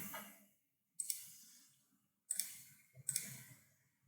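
Three crisp mouse clicks on the Create button while setting up a Google Cloud Storage bucket, close and quiet, evenly spaced against near silence.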